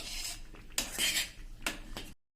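Spices in tamarind chutney are stirred over a medium flame, a spoon scraping and clinking against the pot in a few quick strokes, close and fairly faint, ending abruptly.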